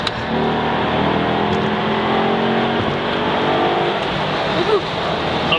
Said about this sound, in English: you'll hear this engine just breathe on the way out of here